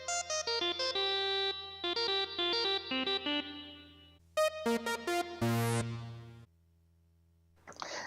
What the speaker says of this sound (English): Here's some reverb.